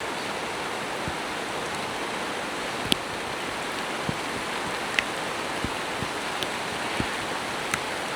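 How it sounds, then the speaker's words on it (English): Heavy steady rain pours down in a warm palm forest in Sri Lanka, a dense even hiss with scattered louder drips and splashes close by, and no voices. "And it's pouring rain."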